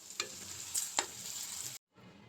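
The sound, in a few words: spices frying and being stirred in a pan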